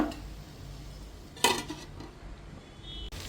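A metal lid set down onto a pan of cooking chicken gives a single short clank in the middle, with faint kitchen background before and after and a small tap near the end.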